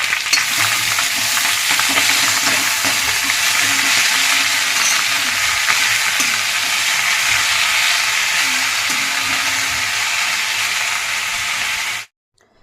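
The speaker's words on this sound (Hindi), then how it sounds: "और ये मैंने डाल दी मेथी। अब कर लेते हैं इसे मिक्स।" Fenugreek leaves are stirred into potatoes frying in oil, making a loud, continuous close-up sizzle with scraping stirring that runs unbroken for about twelve seconds and then cuts off abruptly.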